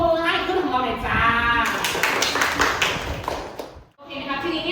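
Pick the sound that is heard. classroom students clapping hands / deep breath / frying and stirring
classroom students clapping hands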